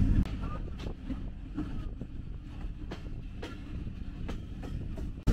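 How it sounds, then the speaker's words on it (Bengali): Rajshahi Commuter passenger train pulling away from Sardar Road railway station, a steady rolling rumble with periodic rail clacks and wind buffeting the microphone. "রাজশাহী কমিউটার ছেড়ে দিল সর্দার রোড রেলওয়ে স্টেশন"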